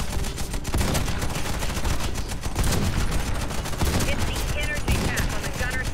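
Rapid, dense shotgun and automatic gunfire from the online shooter game Warface, loud and continuous with overlapping blasts throughout.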